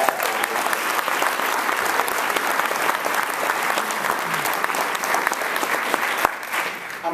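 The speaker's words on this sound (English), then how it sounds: "How about a round of applause for that?" Sustained audience applause fills the room at a donation meeting, dense steady clapping that stays loud and even from start to finish.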